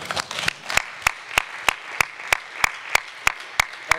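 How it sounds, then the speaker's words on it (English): Hands clap in a steady, even rhythm at a student government meeting, about three claps per second, loud and close, sounding like one or a few people rather than a full crowd. "please join me in giving Mr."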